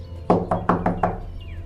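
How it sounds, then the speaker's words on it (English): Five quick knocks on a wooden bedroom door at the top of the stairs in an audio drama, close and firm, in an even run with nobody speaking. "headed up the stairs to her room and knocked."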